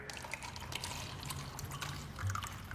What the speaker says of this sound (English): Pour my 10 ounces.